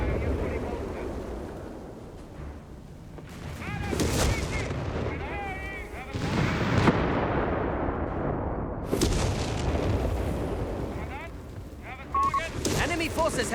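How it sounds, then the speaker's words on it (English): Artillery strike explosions in Company of Heroes 3 boom repeatedly among scattered gunfire, loud heavy blasts at intervals, with voices talking over the battle. "Incoming artillery strike."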